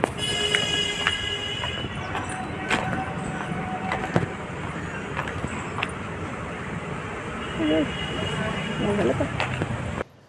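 A metro train running, a steady rumbling rail noise with occasional squeals and clanks, heard at moderate distance while people talk over it.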